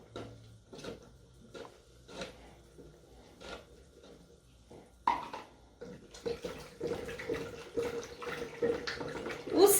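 Plaster mix is stirred and dissolved in water for homemade 3D plaster wall panels, giving soft rhythmic sloshes at first, then a denser, louder stretch of splashing and scraping.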